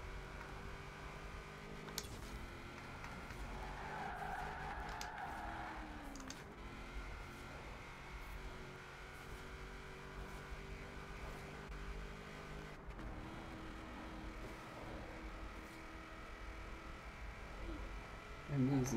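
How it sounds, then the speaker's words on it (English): A car drives at speed in the Forza Horizon 4 video game on Xbox, with a steady, fairly faint engine drone and shifting revs throughout, a few brief changes in pitch, and a louder burst at the end. "See how fast this car can get up to."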